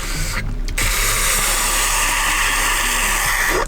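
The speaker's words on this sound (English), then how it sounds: "Manual vacuum seal." Manual vacuum sealer pumping air out of a food bag holding salmon, a steady close mechanical whirring hiss that runs continuously for several seconds without a break.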